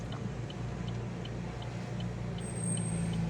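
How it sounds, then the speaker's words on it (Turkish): A car drives past a parked vehicle that is slowly manoeuvring out of a parking space, its steady road rumble continuous and moderately close, swelling slightly toward the end. "Şu araba geçsin."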